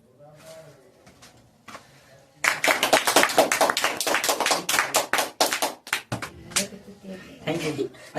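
An audience at a stand-up comedy show breaks into a burst of loud, dense hand clapping that lasts several seconds and then thins out, with the comedian speaking briefly before and after it.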